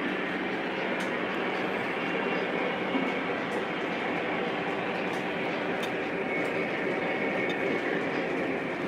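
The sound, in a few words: Lionel model steel train running on track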